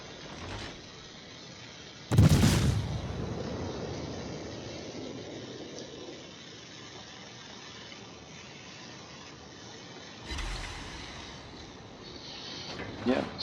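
Naval gunfire and shell explosions in the World of Warships video game: two distinct, sharp blasts several seconds apart rise out of a low, steady rumbling hiss.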